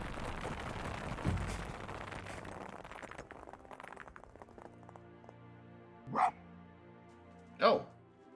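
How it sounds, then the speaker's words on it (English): A fox in the video game Spirit of the North gives two short, sharp barks spaced about a second and a half apart, following a stretch of quieter rustling and tapping. "Oh, I can bark too?"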